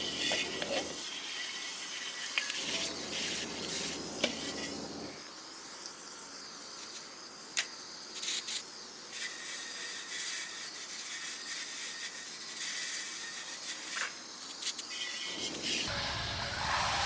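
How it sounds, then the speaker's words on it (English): A water hose sprays down an oil-less turkey fryer outdoors, a loud continuous hiss of spray with brief pauses and shifts in intensity as the stream moves and strikes the metal. "So we're going to take the water hose. We're gonna wash everything down."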